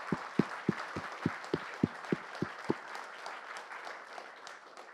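Audience applause at a PrismaDay 2019 conference keynote opens with a run of distinct, evenly spaced loud claps, then settles into a steady, fuller wash of clapping from the hall that slowly fades out.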